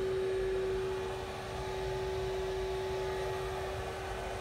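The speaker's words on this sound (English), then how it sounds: "Spindle's still running at full speed." A CNC spindle runs at full speed sealed inside a DIY soundproof enclosure, giving a steady, muffled hum with a constant pitched tone throughout.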